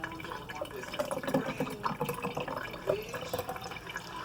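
Green hot pepper sauce pours into a bottle with a continuous wet gurgling fill, close and fairly quiet, with no talking.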